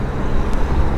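Steady road traffic rumbles at a town junction in Paisley, a continuous close wash of passing engine and tyre noise with no clear pauses.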